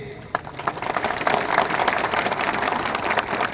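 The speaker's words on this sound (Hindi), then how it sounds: "सब इनको भी एक बड़ा ताली दीजिए।" Broad, steady applause from an audience at a political gathering in Sabroom, Tripura, rising quickly and holding for a few seconds at moderate distance.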